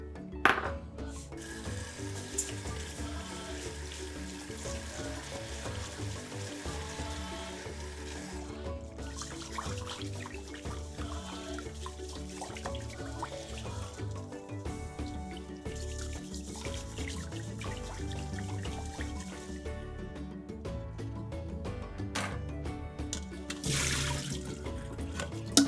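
Rice is washed under running tap water, a steady close trickle and splash of water over the grains continuing for the whole stretch, with occasional brighter drips and clinks.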